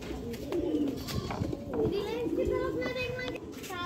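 Pigeons coo softly and repeatedly nearby, with other faint birds and distant voices of children in the background.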